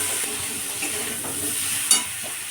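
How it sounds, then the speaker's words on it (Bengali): Potato and pointed gourd stir-fried with vegetable spice for a Bengali chorchori, a steady close sizzle with scraping stirs and one sharp clink of a utensil near the end, no talking. "কষিয়ে নিতে হবে।"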